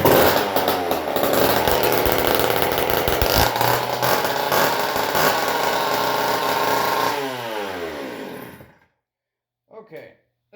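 An old Homelite chainsaw engine running loud and close with a harsh, steady snarl and some revving, then winding down and cutting out near the end, followed by a few brief faint sounds.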